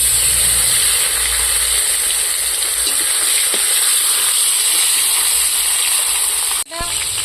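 Tomatoes frying in a pan with dried chillies, whole cumin and whole garam masala over a small village stove, a loud steady sizzle that runs throughout and cuts off sharply near the end.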